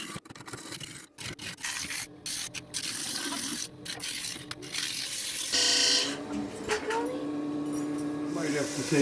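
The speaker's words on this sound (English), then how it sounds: "Might have to take that outside on my other sander." A power sander works a wooden bowl with continuous rough rubbing and grinding that cuts out briefly several times, then turns harsher and louder, while people talk nearby.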